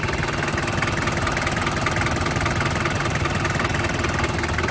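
A standard 2800cc DL42 diesel engine in a 1994 Daihatsu Taft GT idles steadily up close, a continuous rumbling chug with a rhythmic knock throughout.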